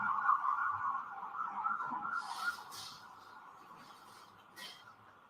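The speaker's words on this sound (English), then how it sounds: "wait until the sirens pass" Emergency vehicle siren wailing steadily outdoors, fairly loud at first and then fading as it passes, with faint passing traffic noise behind it.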